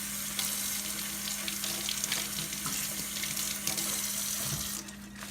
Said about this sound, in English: I'm gonna go ahead and give these a little rinse off